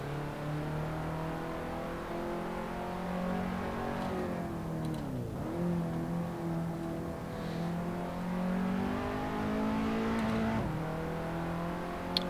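Ford Sierra RS500 racing at Silverstone in Assetto Corsa, its engine droning loudly and continuously, pitch climbing through the gears with sharp drops at each shift and downshift under braking, up close from start to finish.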